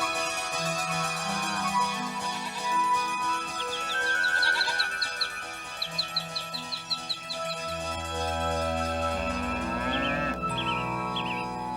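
Cows lowing in a forest scene, several long drawn-out moos rising over a bed of music, with brief horse whinny-like calls in the middle.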